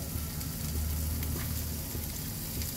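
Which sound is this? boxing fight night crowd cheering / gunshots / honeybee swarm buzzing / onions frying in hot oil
onions frying in hot oil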